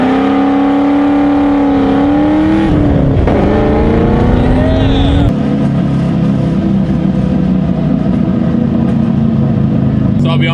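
Straight-piped V8 car with a BBK intake revving loudly up close, the engine note rising and falling across several blips before settling into a rough, droning idle.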